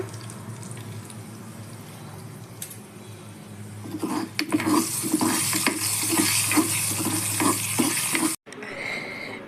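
Mustard seeds, asafoetida and dry chillies tempering in hot oil, starting as a soft sizzle that swells midway into a loud crackling fry with rhythmic stirring scrapes, then briefly cut off before resuming.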